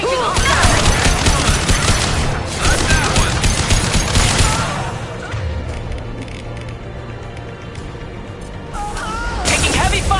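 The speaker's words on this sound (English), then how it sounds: "Taking heavy fire!" Heavy, rapid gunfire in a Mass Effect 2 firefight, loud dense bursts for several seconds, then a quieter lull before shooting resumes, with voices calling out amid it.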